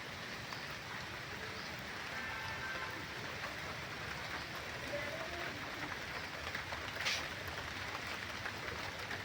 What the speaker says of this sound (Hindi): तो बारिश आ चुकी है अब।